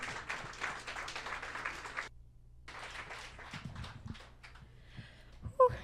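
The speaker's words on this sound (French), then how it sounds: "L'applaudir." Scattered applause from an audience at a quantum technology party event, moderate and uneven, with a brief pause partway through before clapping resumes and fades.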